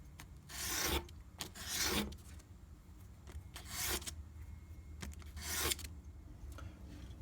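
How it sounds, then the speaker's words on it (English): A file rasps across the edges of a guitar nut being shaped to fit the guitar's width, in several close, rhythmic strokes with brief pauses between them, alone without talk. "I'm just filing down the edges of this to match the width of my guitar."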